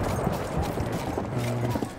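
Horse hooves thud in Battlefield 1 gameplay, a short irregular clatter amid game noise and low murmuring voices.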